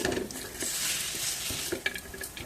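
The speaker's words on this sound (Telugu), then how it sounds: "ఇలా ఒక ఐదు నిమిషాలు బాగా కలుపుకోండి" A date and cashew laddu mixture is stirred in a pan with the stove off, producing continuous soft scraping and gentle sticky shuffling, with a few sharper clinks of the spoon against the pan, close and moderately quiet.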